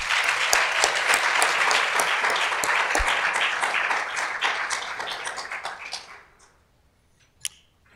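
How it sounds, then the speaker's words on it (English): A conference audience gives a full, close round of applause that holds steady, then tapers off and dies away after about six seconds, followed by one stray clap. "Can we give a round of applause to everyone who's here?"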